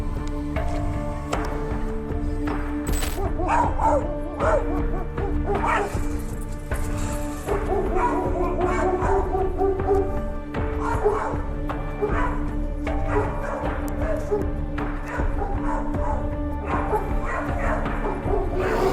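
A dog barks and yips repeatedly at a mother deer guarding her newborn fawn, the sharp calls recurring in irregular bursts throughout over a dense, busy background, with whimpering mixed in.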